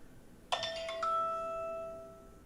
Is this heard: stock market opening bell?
yes